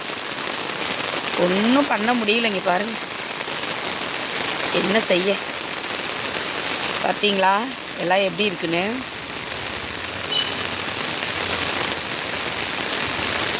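Steady heavy rain patters on garden plants and surfaces in Kumbakonam throughout, a dense wash of drops, while a person talks on and off over it.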